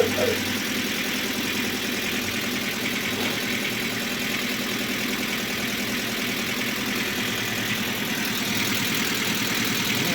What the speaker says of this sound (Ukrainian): Зараз двигун працює на бензині.